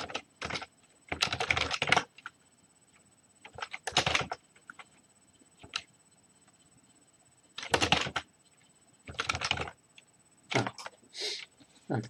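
Keys clatter on a computer keyboard as a password is typed, coming in several quick bursts of rapid clicking separated by short pauses, close and fairly quiet with no talk.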